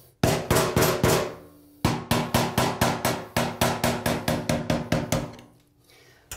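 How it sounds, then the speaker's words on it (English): An old chisel struck with a hammer against the edge of a bathtub during DIY bathroom demolition: loud, sharp metallic blows in quick regular runs of about five to eight, with a short pause between bursts. "You can take an old chisel, put it on the edge of that, and kind of go square on just to create a dent."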